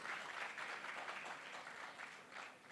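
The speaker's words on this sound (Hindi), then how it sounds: "चौथी ताली उसके लिए" Audience at a literature festival session on administrative services breaks into sustained applause, a dense wash of clapping at moderate-to-faint level with gentle swells, no voices over it.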